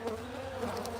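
Honeybees hum at a beehive in the Midwest in February, a soft, faint, steady buzz lasting about a second.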